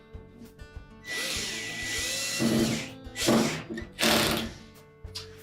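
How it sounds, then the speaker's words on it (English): A power drill drives the retaining screw into the back of a Whirlpool washer during a water inlet valve replacement, whirring in several close, loud bursts of varying length with short pauses between. "install the retaining screw"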